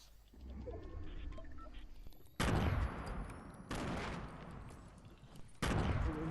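Fortnite Battle Royale gunfire: three loud sharp bursts of shots cut in abruptly over a quieter game background, spaced a second or more apart, close and punchy.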